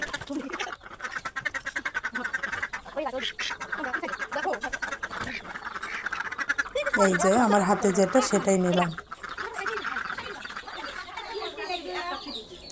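Ducks quack loudly in a harsh, repeated burst in the middle, with a person talking nearby before and after.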